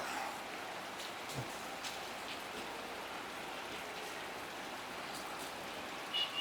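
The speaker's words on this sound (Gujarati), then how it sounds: "ધોધમાર વરસાદ ચાલુ થઈ ગયો છે." Heavy downpour in a village, a dense, constant hiss of rain pounding surfaces with scattered louder drips, steady throughout and fairly close.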